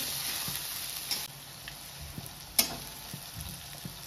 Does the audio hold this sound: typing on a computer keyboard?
no